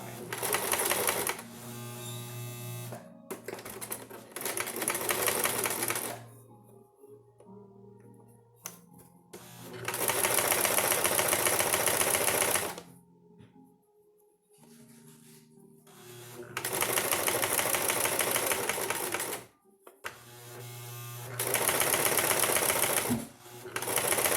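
A sewing machine stitches a fabric face mask in several long, steady, rattling runs of rapid needle strokes, separated by quiet pauses, close and fairly loud with no one speaking.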